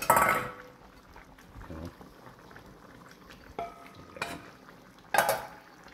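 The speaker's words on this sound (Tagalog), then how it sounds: "At pagsasama-samahin na natin ang mga prinito na patatas" Fried potatoes are stirred into a pan of simmering chicken afritada. Soft bubbling runs throughout, broken by a few scraping clatters of a utensil against the pan.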